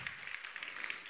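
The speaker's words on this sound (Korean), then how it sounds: "박수 한번 쳐주세요." A church congregation at a Sunday young-adults worship service gives a round of applause, faint scattered clapping heard from a distance, soft and brief.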